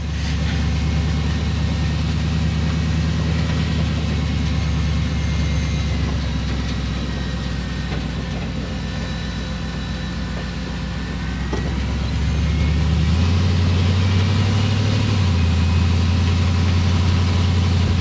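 Chevy COE truck engine running while being driven on worn, out-of-round tires: a steady low drone with mechanical rumble, easing slightly midway before the pitch shifts up as the engine pulls harder, heard alone without talk.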